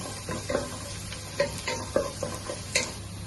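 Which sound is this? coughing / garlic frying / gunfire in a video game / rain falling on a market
garlic frying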